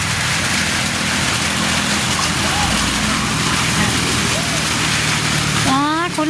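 Steady rain falls by a canal, a dense constant hiss, close and loud, with a brief voice rising near the end.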